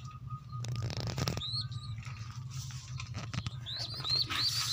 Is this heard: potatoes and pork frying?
no